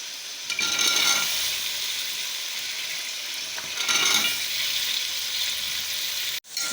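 Peas and potatoes frying in spices in a pot for matar pulao, a steady hissing sizzle that swells twice as the mixture is stirred, then a sharp clunk at the end.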